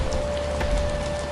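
Steady rain falls in a continuous, even hiss with a faint tonal hum underneath, close and unbroken for the short stretch.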